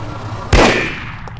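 A single sharp gunshot from a weapon in the spy shooter No One Lives Forever, a loud close blast that decays quickly.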